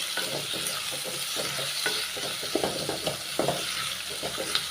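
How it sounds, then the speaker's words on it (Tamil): Onions sautéing in hot oil for a chicken gravy, a steady bright sizzle with irregular scraping stirs and clicks of a spoon against the pan, close and continuous. "வெங்காயம் நல்லா வதங்கி வரட்டும்."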